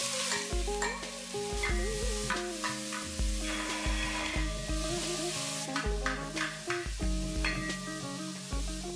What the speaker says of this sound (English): I'm going to add this and I'm going to saute it till it's soft and pink